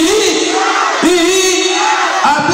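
A crowd at a political campaign presentation shouts and chants in loud, rhythmic bursts, with three surging cries rising and falling in quick succession close by.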